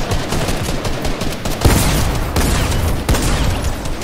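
Rapid gunfire from a shooting video game, dense repeated shots with a few louder bursts, steady and close throughout with no voices.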